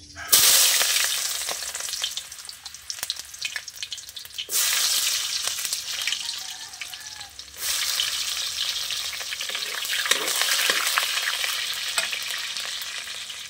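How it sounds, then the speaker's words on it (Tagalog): Pansit noodles with shrimp frying in a hot pan, a steady loud sizzle broken by short pauses and scraping stir strokes, close up with no talking. "luto tayo ng ating pansit guys"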